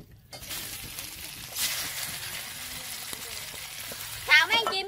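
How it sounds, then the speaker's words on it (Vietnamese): Steady sizzling of quail stir-frying in hot oil, with occasional stirring clatter and a brief burst of voice near the end. "Xào mấy con chim cho săn lại nha các bạn"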